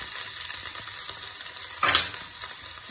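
Garlic sizzling as it hits hot ghee or butter in a pan while making a chicken sandwich, with a steady frying hiss, a short louder burst near the end as it is added or stirred, and light utensil clinks.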